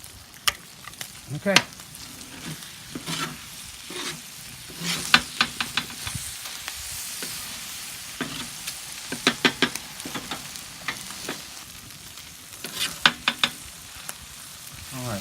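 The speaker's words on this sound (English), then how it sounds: "so our rice is frying up nice. Our egg is frying up nice." Rice and eggs sizzle on a hot Santa Maria grill griddle while a metal utensil scrapes and taps repeatedly; a voice speaks briefly.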